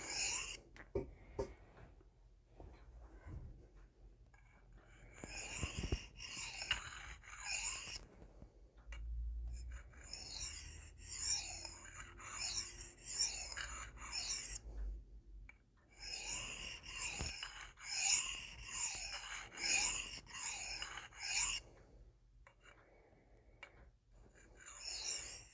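A Spyderco Shark knife in 4V steel is drawn across a sharpening stone with light reduction passes, quiet, rhythmic raspy strokes in close bursts separated by short pauses.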